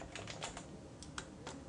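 Quick clicking keystrokes on a computer keyboard, a short burst of taps followed by a few more, close and fairly quiet.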